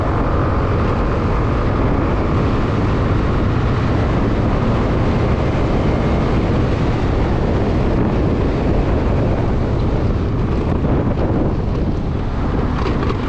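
Riding a Suzuki Address V125 S scooter on the road, heard as a loud, constant broadband rush of wind buffeting and engine drone with no pauses.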